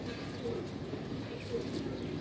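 A pigeon coos softly amid a dense, steady background of other bird noise, the low cooing notes brief and partly buried.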